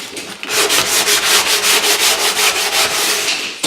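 A sandpaper block rubs back and forth along the sink cut-out edge of a bench top in loud, close, rhythmic strokes, about four per second, with no talking.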